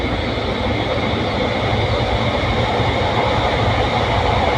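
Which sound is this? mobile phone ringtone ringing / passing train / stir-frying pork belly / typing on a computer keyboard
passing train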